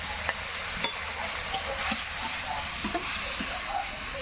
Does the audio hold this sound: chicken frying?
yes